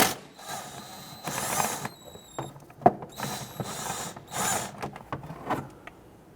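A ratchet loosens the 10mm bolts holding the inner fender liner of a 1992–1996 Toyota Camry 2.2L, heard as several close, loud bursts of rapid clicking separated by brief pauses and a metallic knock.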